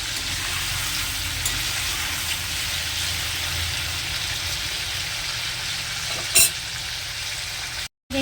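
Garlic green chilli chicken frying in a pan, a continuous close crackling sizzle with a brief clatter of stirring near the end before it stops.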